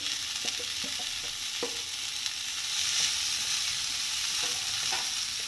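A spoon stirs grated carrot and green peas in a pan with ginger and curry leaves, making scattered scraping taps over a soft, continuous sizzle with no talking.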